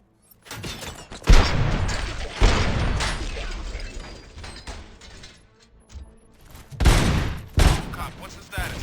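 Bursts of gunfire in the Robocop: Rogue City video game, loud clustered volleys with mechanical clatter and thuds, a heavy opening burst, a sustained stretch, then two more sharp volleys near the end.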